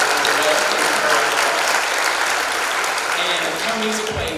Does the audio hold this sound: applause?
yes